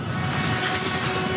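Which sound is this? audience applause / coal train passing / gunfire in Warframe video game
coal train passing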